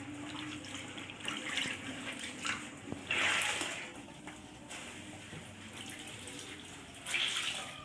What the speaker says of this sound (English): I start with the white and rinse it. Then the colored fabrics and rinse them as well.